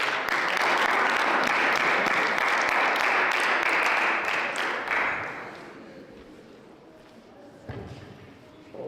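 A room full of gentlemen at a school gathering applauds loudly for about five seconds, the claps thinning and fading away, followed by a few scattered thumps and murmurs.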